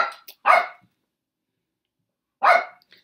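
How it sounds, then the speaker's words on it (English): A pet dog barks twice indoors, sharp close barks about two seconds apart with silence between. "I live with a dog."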